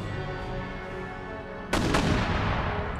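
Artillery bombardment in Empire Total War, a steady low rumble of distant cannon that breaks into a sudden loud burst of blasts and crackling fire partway through, with no talking.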